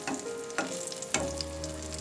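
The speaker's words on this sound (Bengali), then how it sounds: "এটা এখন বেগুনটা ভাজা হয়ে গেছে" Eggplant pieces fry in hot oil with a steady close sizzle, broken by a few sharp clicks and scrapes from turning or stirring.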